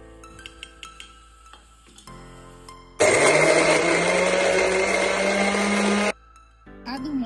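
A kitchen mixer grinder blends ginger, green chilli and garlic into paste for vada pav, roaring loudly and steadily for about three seconds before cutting off abruptly, with quieter kitchen clatter around it.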